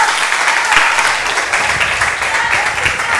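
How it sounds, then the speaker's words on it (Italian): An audience applauds in a dense, loud, steady wash of clapping that holds for several seconds, with voices faintly mixed in. "lo potete fare l'applauso se volete"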